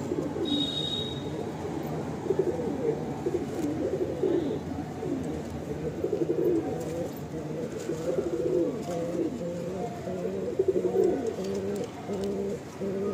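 Pigeons in a loft cooing, repeated low throaty coos close by, steady throughout with occasional wing flutters.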